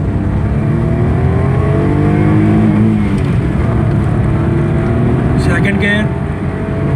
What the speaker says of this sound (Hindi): ये गाड़ी फर्स्ट गियर में है